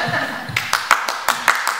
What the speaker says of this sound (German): auch wenn ihr etwas verhalten geklatscht habt